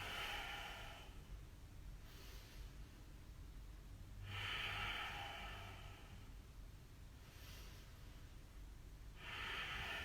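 Slow, deep breathing during a home yoga session: three long, soft, airy breaths spaced several seconds apart, close to the microphone, with quiet pauses between.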